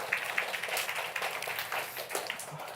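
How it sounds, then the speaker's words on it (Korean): A small congregation at a youth Sunday worship service claps briefly: a soft, scattered patter of hand claps in a quiet room, fading near the end. "박수하겠습니다."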